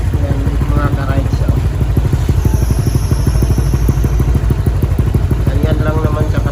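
A Honda Click 125i scooter fitted with an Exos X6 exhaust idles close by, putting out a steady rapid low putter with a fast even pulse. A person speaks over the engine.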